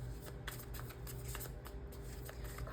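Tarot cards being shuffled and handled close by, a soft, continuous patter of riffling card edges with light flicks, faint and without speech.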